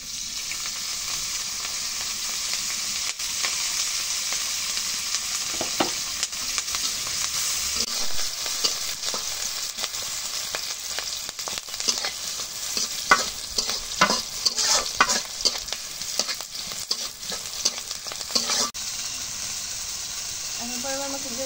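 Oil sizzles as fresh homegrown vegetables fry in a pan, a steady close hiss broken by scraping stirs and rattles that grow busier toward the end, with a voice speaking at times.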